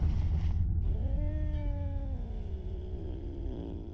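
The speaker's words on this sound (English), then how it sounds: "The cat is doing its thing," A cat in the horror game Simulacrum lets out a long, drawn-out wavering meow that rises and then slowly fades, heard alone over low background rumble.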